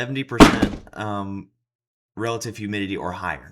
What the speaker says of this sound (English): If you just heard a thud sound, that was my phone falling out of my pocket.